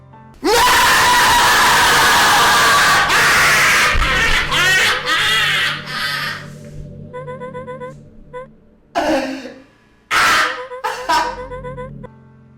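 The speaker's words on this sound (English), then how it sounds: "I'll just edit in some scream right here" An inserted scream sound effect starts as a loud, sustained shriek, then breaks into shorter cries and gasps that fade toward the end, with some music underneath.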